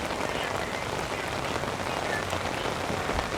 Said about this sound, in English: discovered it was pouring rain.